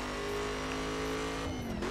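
A car engine drones steadily while driving in a racing video game, a tonal hum that holds pitch and then shifts near the end as the revs change, quiet and alone without voices.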